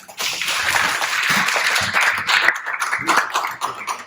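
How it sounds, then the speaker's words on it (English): Audience applause at a sheep shearing show in Perth, Australia, honoring a freshly shorn sheep: a dense, steady wash of clapping lasting several seconds, with a voice talking faintly underneath. "Let's give him a clap"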